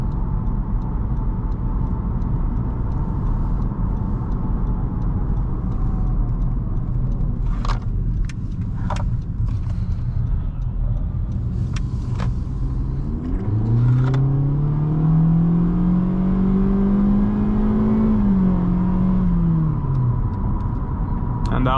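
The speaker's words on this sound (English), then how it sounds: "And that was full throttle right there." A 2019 Honda Civic Sport with a turbocharged four-cylinder accelerates at full throttle. From inside the cabin, the engine note climbs steadily, holds high, then falls away over a constant road and engine drone.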